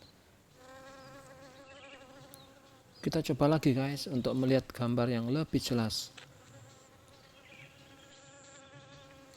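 A honey bee buzzes close by in a steady, droning hum as it flies from flower to flower, while a person speaks briefly over the middle of it.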